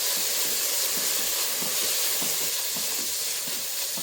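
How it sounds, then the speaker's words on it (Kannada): Green chilli paste frying with ginger garlic paste and onion in a hot pan, giving a loud, steady sizzling hiss that barely changes from start to finish. "ಈಗ ಚಿಲ್ಲಿ ಪೇಸ್ಟನ್ನು ನಾನು ಹಾಕ್ತಾ ಇದ್ದೀನಿ."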